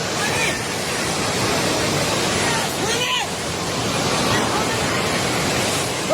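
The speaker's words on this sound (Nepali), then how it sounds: "पानी नजिक आइसकेको छ" Floodwater rushes through the submerged Trishuli market in Nepal as a dense, continuous roar at close range, with a faint voice briefly rising above it midway.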